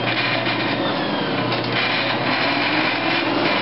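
A homemade lathe converted to a variable-speed DC motor runs at high speed, giving a steady, loud whirring drone that holds evenly throughout without talk.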